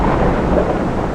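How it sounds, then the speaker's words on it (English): Thunder rumbles through a heavy rainstorm in Kuala Lumpur, a low continuous roar blending with steady rainfall, loud and close throughout. "It's gonna thunder, right?"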